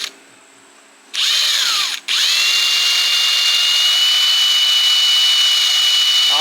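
A power drill whines loudly and steadily, starting briefly, stopping, then running continuously at high pitch for several seconds.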